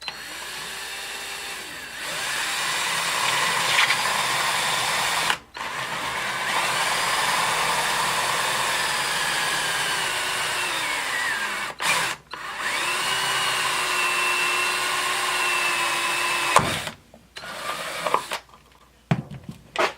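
A power drill whines in several long bursts with brief pauses between them, its pitch sliding slightly as it bites into a plastic jar lid, close and fairly loud.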